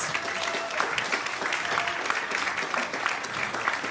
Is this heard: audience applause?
yes